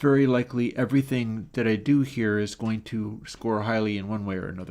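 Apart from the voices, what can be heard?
No everyday noises stand out.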